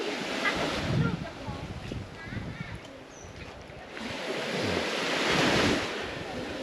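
Sea waves wash onto Toei Ngam beach at Sattahip, Chonburi, with clear water: a surging, close roar that swells and ebbs, heavily mixed with gusting wind noise on the microphone.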